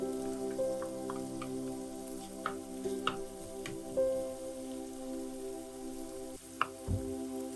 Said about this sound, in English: Then, add in the aromatics and fry them until they get fragrant.